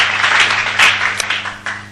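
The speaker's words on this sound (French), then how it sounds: "Applaudissez un peu le Seigneur." A church congregation applauds the Lord during a sermon, a dense, loud burst of many hands clapping together, steady for two seconds over a low hum.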